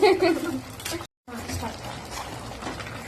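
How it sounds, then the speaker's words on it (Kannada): A spoon scrapes and stirs salt through biryani in a pan, a soft irregular scraping with a faint sizzle and a brief dropout midway, with a voice talking over it. "ಉಪ್ಪು ಹಾಕಿ ಸ್ವಲ್ಪ ಕಲಿಸ್ಕೊತಾ ಇದೀನಿ"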